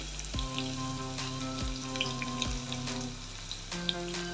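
Garlic and asafoetida fry in hot oil with a continuous bright sizzle, steady and close, with a few small pops and no voices.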